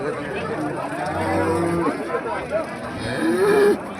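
Cattle at the Honnali Wednesday market in Davangere, including HF cows and a Jersey calf, moo loudly and close by, with one drawn-out call near the end over a background of crowd chatter.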